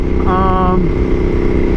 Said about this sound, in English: But my exhaust actually has some back pressure now.